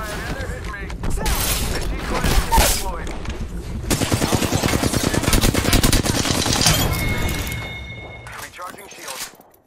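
Loud, sustained automatic gunfire in the Apex Legends game, rapid bursts of shots with booms and mechanical clunks, continuous for most of the stretch before tailing off, with a voice speaking over it.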